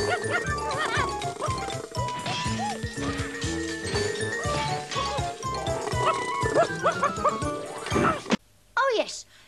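A cartoon dog barks, yips and whimpers over busy animated music with jingling sounds and some chatter, then after a brief pause a few sharp, close yelps finish it.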